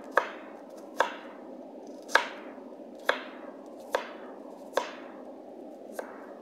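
Knife chopping an onion on a cutting board, seven evenly spaced sharp thuds about one second apart, close and clear with no talking.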